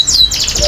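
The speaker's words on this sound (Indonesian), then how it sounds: "Kenari Gerhana ya" A Gerhana canary at a canary singing festival in Wonosobo gives a very brief burst of bright, rapid chirping trills, close and fairly loud over a low background rumble.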